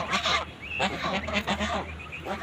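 Ducks give a series of nasal honks and quacks at close range, several calls overlapping in quick uneven bursts.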